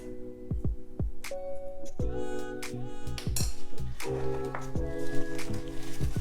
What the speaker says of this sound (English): I am going to give this a good little mix